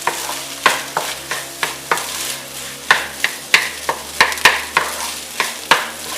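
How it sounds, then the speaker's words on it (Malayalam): Rice and egg being stirred together in a hot frying pan for egg fried rice, with a steady sizzle and repeated scraping strokes of a spatula at a regular rhythm, close and clear, no talk. "ആ മുട്ടയുടെ കൂടെ തന്നെ റൈസ് മിക്സ് ചെയ്തെടുക്കുക."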